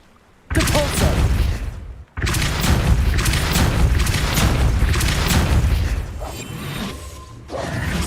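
In the game Hogwarts Legacy, the Depulso spell bursts in with a sudden heavy boom and rushing blast that sustains loudly for several seconds, then a second surge follows after a brief cut, no speech over it.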